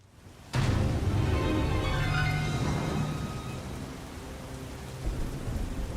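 A thunderstorm in Mystery of the Druids bursts in abruptly after a quiet start: a loud thunder crack and roll over steady heavy rain that stays dense, dipping slightly and swelling again near the end.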